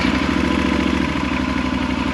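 A motorcycle engine runs close and loud at a steady idle, a continuous throbbing rumble with mechanical clatter.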